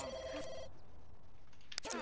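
Telephone rings in The Sims 2 life-simulation game: two short bursts of a bright electronic ring, one at the start and one near the end, separated by a quiet gap with faint game ambience.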